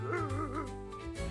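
A fox in a children's story sound effect cries out with a short, wavering, whining yelp of about a second, close and alone with no talking.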